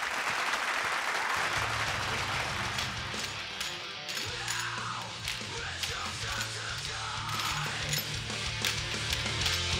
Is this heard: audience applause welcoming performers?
yes